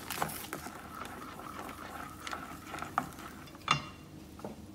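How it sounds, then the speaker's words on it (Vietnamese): Banana fritter batter being stirred with a little water, giving soft irregular scraping and tapping of a utensil against the bowl, close and fairly quiet. "Mình cho một lần ít nước thôi thì mình khuấy sẽ dễ tan bột hơn."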